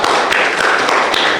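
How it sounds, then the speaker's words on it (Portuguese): A church congregation claps during a worship service, a brief dense patter of many hands at close range, steady and fairly loud. "uma linda salva de palmas"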